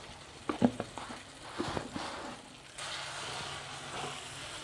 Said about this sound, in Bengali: আমি এটাকে 5 মিনিটের মতো কষাবো।